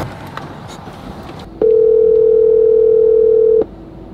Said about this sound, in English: Come on, Zeke, answer your phone.